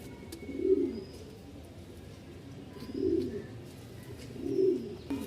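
Pigeons coo nearby in three soft, low bursts spaced a couple of seconds apart, with quiet background between calls.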